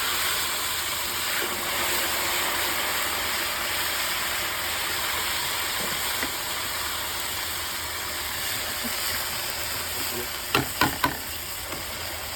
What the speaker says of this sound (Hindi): अभी तो इसमें ही तड़का लगाया जा रहा है।